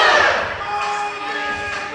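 Crowd at a high school varsity volleyball game in a gym, cheering and shouting with a loud burst that settles into sustained, echoing crowd noise.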